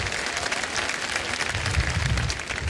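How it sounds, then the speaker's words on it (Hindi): Studio audience applauding on the set of a Kaun Banega Crorepati quiz show, a steady, dense wash of clapping filling the whole stretch without pause, loud and close with no talk over it. "एक बार फिर तालियां बज जाएं इन तीनों के लिए।"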